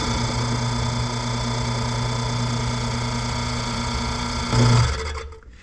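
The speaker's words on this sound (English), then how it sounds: "I'll replace it with a straight bung cutter" A straight bung cutter bores a quarter-inch hole in wood aboard a wooden boat, a steady mechanical whine with strong tonal hum that swells briefly near the end before the drill winds down and stops.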